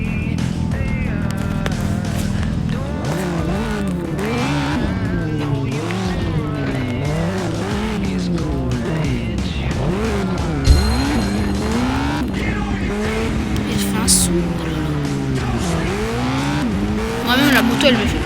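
A motorcycle in the video game Gangstar IV, a bike nicknamed the snake motorcycle, revs and whines continuously with rising and falling engine pitch, close and loud, mixed with tire squeals.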